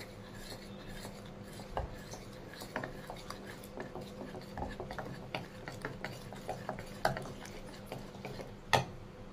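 Masoor dal pancake batter is mixed with a utensil in a bowl, making steady soft scraping and light ticking strokes at a quiet level, with occasional sharper clinks.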